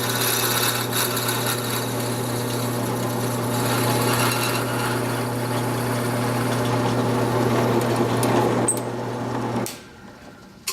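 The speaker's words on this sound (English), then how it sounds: "I'm just getting some pieces out of there so that the drill can do its job." A drill bores into a wooden pen blank with a continuous loud motor whine and gritty cutting noise for nearly ten seconds, then stops abruptly, leaving near silence.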